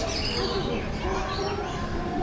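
Birds calling at a family bird park in Jakarta, a steady stream of faint chirps and cries carrying under close conversational talk.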